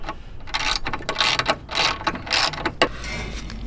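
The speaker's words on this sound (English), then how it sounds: "I just have to tighten up the bolts now." Bolts being tightened on the running boards of a Ford E450 box truck, a series of quick metallic ratcheting clicks in short bursts, close and fairly loud, with no talk.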